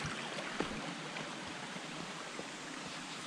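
Clear creek water flowing steadily through sandstone Carnarvon Gorge in Queensland, a soft continuous broadband wash with no talking.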